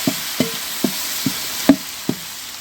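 Chopped tomatoes sizzling in a hot pan for Dindigul-style mutton biriyani, with a steady hiss of frying broken by regular sharp knocks of a spoon stirring against the pan, close and alone.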